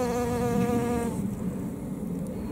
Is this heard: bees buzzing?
yes